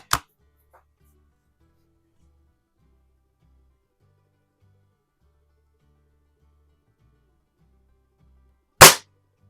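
Two sharp shots from a BSA Super Meteor .22 break-barrel air rifle with a Minelli stock, one at the start and one near the end, separated by near silence.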